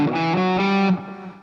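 A brief alternate picking lick played on a heavily distorted electric guitar, a fast burst of picked notes lasting about a second, then a quick fade, close and alone.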